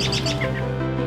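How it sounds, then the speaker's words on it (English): Several quick, bright bird chirps come in a short burst near the start and fade over steady sustained tones, with the calls close and clear before quieting. "Hear the birds."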